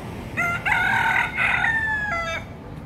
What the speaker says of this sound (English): Something that they have here in Key West is wild roosters and chickens.